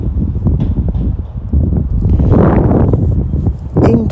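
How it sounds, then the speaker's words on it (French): Wind gusts outdoors during crochet work buffet the microphone in a steady rumbling roar, swelling louder midway and again at the end, with no voices present. "il y a un petit vent parce que je suis en train de travailler dehors"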